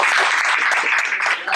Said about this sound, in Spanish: Un aplauso al público presente.